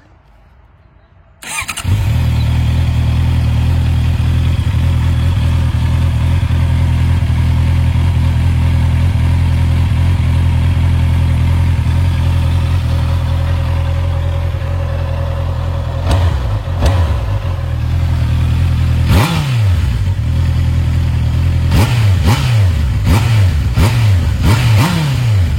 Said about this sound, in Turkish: Ben şimdi size orijinal egzozun sesini de dinleteceğim.